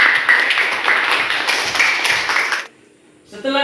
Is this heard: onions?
no